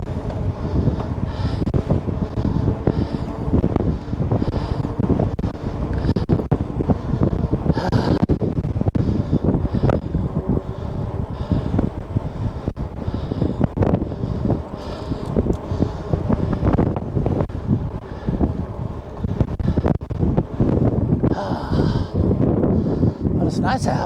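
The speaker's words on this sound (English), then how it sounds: "That wind is something." Strong gusty wind buffets the microphone on a spring bike ride in Missouri, a continuous loud low roar with no letup across the whole stretch.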